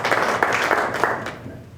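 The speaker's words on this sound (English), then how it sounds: "I definitely was not cutting off that applause." An audience applauds in a short burst of clapping that fades away within about two seconds.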